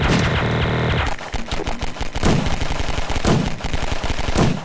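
Gunshots in the video game Garry's Mod: a sustained tone gives way to a rapid string of loud, sharp close-range shots firing in quick irregular bursts.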